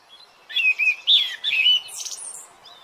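A cartoon sparrow chirps in quick bright bursts, a cluster of short close tweets in a children's Hindi animated story, with no talk over it.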